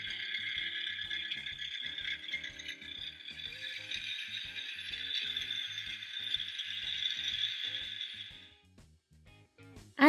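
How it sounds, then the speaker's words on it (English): Orange and gray toy backhoe dump truck scoop dumps, raises and lowers to a steady rhythmic ratcheting mechanical clatter under a bright electronic motor whine, ending with a sharp click. "I love that you can dump the scoop out. And it raises and lowers."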